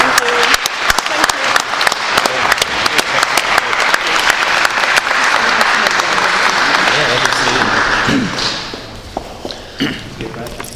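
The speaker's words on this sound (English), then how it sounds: "Big round of applause for Claire." A debate audience breaks into loud, sustained applause of many hands clapping, which thins out and fades near the end.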